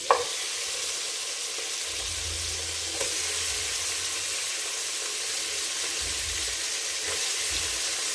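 Bone-in chicken pieces for butter chicken go into a hot pan and fry, a continuous loud sizzle with a few soft knocks and stirring sounds, no talking.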